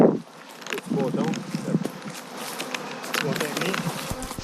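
Honey bees buzz around their beehives in springtime, a dense insect hum running steadily under close voices and handling noises, with occasional louder passes near the microphone.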